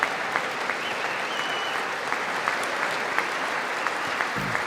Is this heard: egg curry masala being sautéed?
no